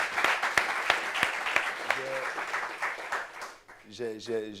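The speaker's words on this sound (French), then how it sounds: "Applaudissements pour ce monsieur-là." An audience applauds a man at a gathering in Réunion, with brisk, moderately dense clapping that thins out before a voice speaks over the end.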